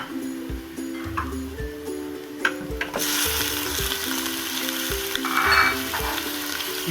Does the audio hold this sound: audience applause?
no